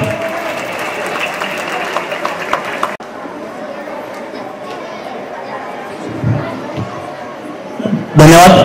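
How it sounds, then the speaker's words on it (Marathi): Audience at a senior citizens' gathering organised by an education trust applauds, a broad clapping wash with crowd chatter and a voice over it, then a sudden louder burst near the end. "सर्वांनी जोरदार टाळ्या वाजवायच्या आहेत."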